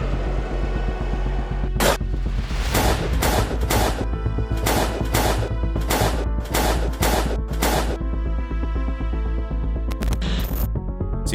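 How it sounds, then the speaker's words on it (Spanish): A police shootout with an armed gunman: eight or nine sharp broadband gunshot bursts fire in an irregular volley over a steady low rumble, with a few fainter cracks near the end and no voices. "los policías repelieron el ataque y en medio del intercambio de disparos"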